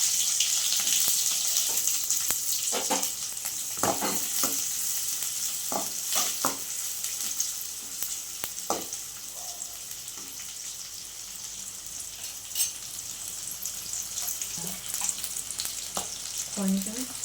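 Onion pieces frying with mustard and cumin seeds in oil, a continuous bright sizzle with frequent popping and stirring scrapes, close and fairly loud, faint speech at moments.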